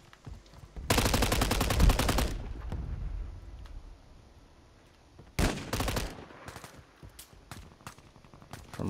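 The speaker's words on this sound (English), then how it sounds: "I'm getting sniped." Sniper gunfire in an online shooter game, two sharp bursts of rapid cracking shots with short tails, the second followed by scattered single shots, with no talking.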